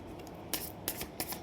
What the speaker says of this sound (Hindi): जब तक मैं कार्ड शफल करती हूँ